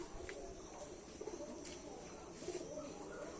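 Pigeons coo softly in a rooftop loft among garden plants, with low repeated cooing and a few faint chirps against quiet background noise.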